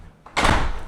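A house door into a mudroom laundry room, connecting the garage and main hallway, opens with a soft click followed by a broad whooshing thud, loud and close.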